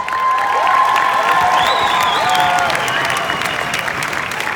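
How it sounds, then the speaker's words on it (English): An audience claps steadily and warmly, with scattered cheers and a few high shouts rising over the applause. "Can you give that a round of applause?"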